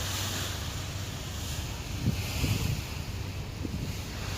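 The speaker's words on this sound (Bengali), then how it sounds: "এক ঢেউ অনেক বড় বড় আসা আসবে" Waves on a wide river slap against a passenger launch boat, a few low thuds rising out of a constant wash and wind noise, soft and steady.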